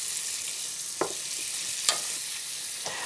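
Salt-and-peppered vegetables sizzle steadily in a hot pan as they warm through, a constant bright frying hiss broken by a few soft stirring scrapes.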